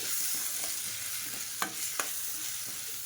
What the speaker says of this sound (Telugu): ఇప్పుడు దీన్ని నీట్గా మిక్స్ చేసేసుకుందాం.